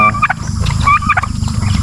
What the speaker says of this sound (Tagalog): may pabo dito na